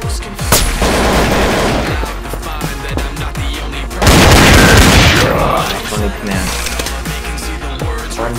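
Gunfire from the video game Counter-Strike: Source rattles in loud repeated shots with a heavy boom midway, while players talk over the action.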